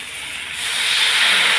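Water poured into a hot pan of spiced fish curry gives a steady loud hiss of steam and sizzle that swells slightly toward the end.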